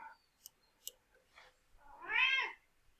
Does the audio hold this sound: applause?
no